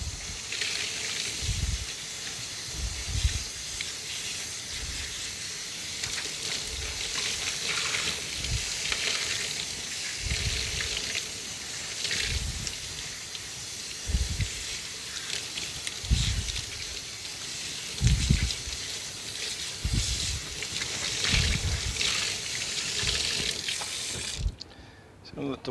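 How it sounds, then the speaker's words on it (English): Tap water running steadily into a sink while rinsing soap out of a nuno-felted scarf, a continuous broad hiss with low splashing pulses throughout, close by. "I'm at the sink and running some water here"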